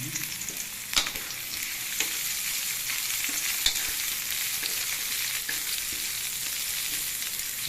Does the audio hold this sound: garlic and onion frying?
yes